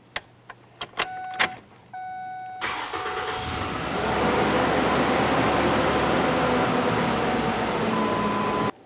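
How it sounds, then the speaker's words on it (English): A few clicks and a chime, then the 2.3-litre four-cylinder engine of a Ford Ranger cranks and catches, settling into a steady, fairly loud idle that runs on without a break. "start up the vehicle. Let it run for approximately 10 seconds and turn it right back off."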